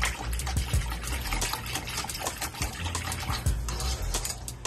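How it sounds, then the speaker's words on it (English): A whisk swirls ranch seasoning packets into a pan of Alfredo sauce, a steady wet sloshing and scraping that runs continuously, close and fairly loud. "we're gonna go ahead and add that in and whisk it up so it gets evenly mixed"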